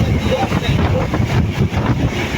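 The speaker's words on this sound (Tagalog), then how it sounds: "Ang lakas ng hangin mga idol." Strong wind buffets the microphone with a loud, continuous rumbling roar, gusting unevenly throughout.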